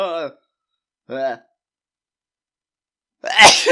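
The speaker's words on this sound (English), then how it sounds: "I'm gonna sneeze again. Oh gosh, not again." Two short, strained vocal intakes, separated by silence, lead up to a single loud, explosive sneeze close to the microphone.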